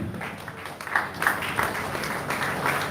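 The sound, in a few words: audience clapping at a ceremony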